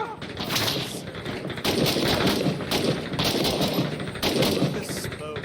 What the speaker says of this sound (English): I've never heard a game sound like that suppressor before.